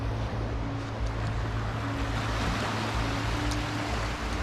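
Gentle waves wash steadily onto a small beach at Koh Samet, a continuous soft surf with a low rumble and some wind across the microphone.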